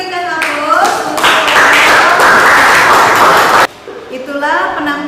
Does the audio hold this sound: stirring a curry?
no